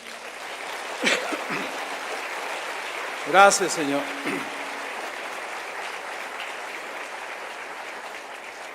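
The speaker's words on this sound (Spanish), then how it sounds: "Dale un aplauso al Señor." A church congregation applauds to honor the Lord, a soft continuous patter of many hands under a brief spoken voice partway through.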